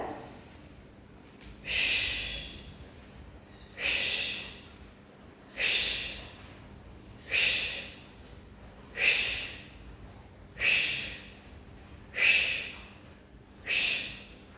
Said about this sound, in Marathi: श्वास आत, ताण द्यायचा, श्वास बाहेर